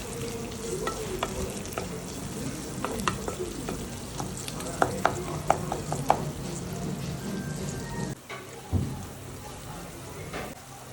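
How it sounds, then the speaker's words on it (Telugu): Chopped tomato and onions frying into a paste for Andhra-style chicken curry, a steady sizzle broken by a run of sharp spoon scrapes and stirring knocks, with a brief lull near the end. "అంతలా బాగా ఫ్రై అయ్యే వరకు కూడా వేయించండి."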